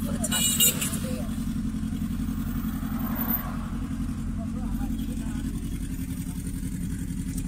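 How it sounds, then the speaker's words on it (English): Street traffic in Nima, Accra, Ghana, with a steady low engine drone of passing cars and motorbikes, while a person talks over the ongoing road noise. "traffic."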